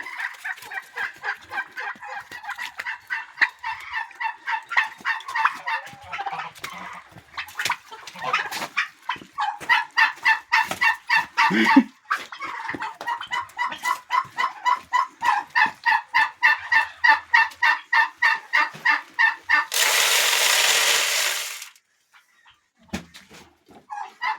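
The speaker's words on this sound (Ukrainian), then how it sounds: "Це гусь." A goose honks in rapid, repeated bursts, near and loud, with a brief rush of noise near the end and no talking.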